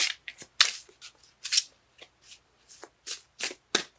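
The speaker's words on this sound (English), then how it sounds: "Cards let me know when they're done shuffling." Tarot cards being shuffled by hand in a series of crisp riffling bursts, about a dozen short papery flurries with brief gaps between them, close and clear with no talking.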